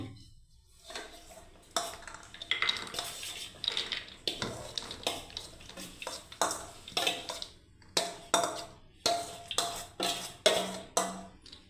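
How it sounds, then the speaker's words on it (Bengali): Yogurt vegetable salad is poured and scraped from a bowl into a serving dish, giving a run of close, sharp utensil clinks and wet slides that grow more rhythmic toward the end. "এবার আমি ঢেলে নিচ্ছি বন্ধুরা পরিবেশন করার জন্য দেখুন"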